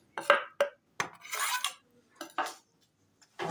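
Green masala tipped into chicken in a bowl for Hyderabadi chicken marinade: a few close, short clinks and scrapes of a spoon against the bowl, with a brief rubbing, stirring stretch in between.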